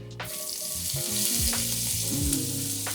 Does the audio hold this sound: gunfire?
no